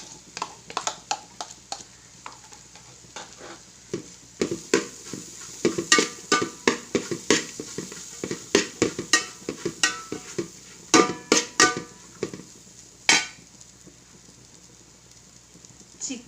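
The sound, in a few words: egg frying in a pan for chicken fried rice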